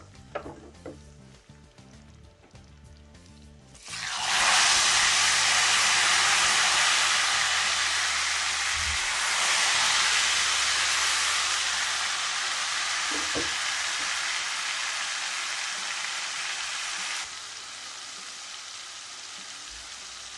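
Hot oil tempering is poured onto kadhi curry with a sudden loud burst of sizzling that keeps hissing and crackling steadily for several seconds before easing slightly.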